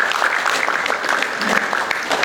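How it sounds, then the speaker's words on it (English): Seated audience at a Pan African debate on whether the poor should be chased from cities breaks into a big round of applause, dense steady clapping filling the room without talk. "A very big round of applause"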